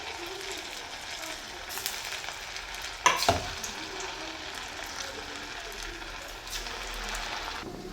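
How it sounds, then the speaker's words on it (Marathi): Marinated chicken fries in oil with a dense, continuous sizzling crackle, steady and close, broken once by a brief clatter near the middle. "चिकन तळून घेऊया।"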